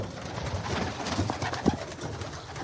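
Pigeons coo softly inside a loft, low throaty calls repeating a few times over a quiet background, close by with no speech.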